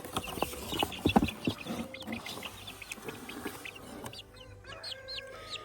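Chickens in a chicken pen cluck and chirp in short irregular calls, some near and some farther off, over light background rustle, with no talking.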